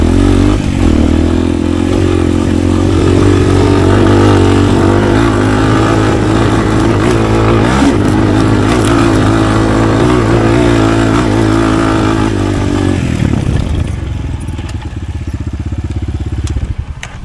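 A 250cc enduro motorcycle, the X11 model with a pushrod engine, runs loud and close with a steady rumbling drone and rising revs, then the engine note drops away sharply near the end.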